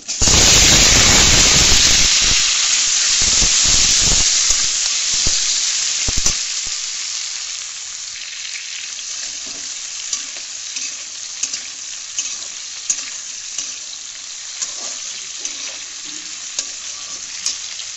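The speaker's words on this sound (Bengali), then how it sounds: "এইবার আমি আলুগুলোকে ভেজে নেব, আলুগুলো দিয়ে দেবো।" Potatoes drop into hot oil that has just fried fish, bursting into a loud, dense sizzle and spatter that softens after about six seconds into a quieter hiss with occasional pops.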